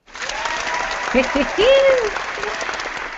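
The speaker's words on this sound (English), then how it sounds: "And I'm going to clap one more time." Group hand clapping at the end of an online chat session, a steady patter of claps running the whole time, with a voice speaking briefly over it midway.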